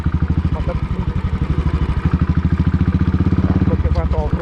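A Royal Enfield Bullet 350 motorcycle ridden off-road, its single-cylinder engine thumping in a steady, loud, rapid pulse close by, with clattering over rough ground.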